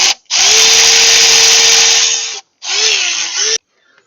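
Power tool whirring loudly as it loosens an alternator bolt on a 2013 Hyundai Elantra, one long steady burst, a brief pause, then a shorter second burst with a slight pitch wobble, close and alone.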